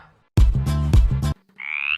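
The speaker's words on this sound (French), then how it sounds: "c'est quel gros crapaud qui est sur sa cabine là?" A big toad croaks close by in a few loud, deep, rasping pulses. A brief higher-pitched sound follows after a short pause.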